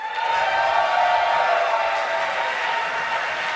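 A crowd at a live esports event in Hamburg cheers and claps in a dense, sustained roar filling the venue.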